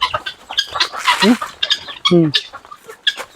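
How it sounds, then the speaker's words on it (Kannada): Native desi country chickens cluck and squawk close by in a farmyard, several short bursts and rising calls, while people talk at times. "ಇದು ಮಾಮೂಲಿ ಇದೆಲ್ಲ ನಾಟಿ ಕೋಳಿ"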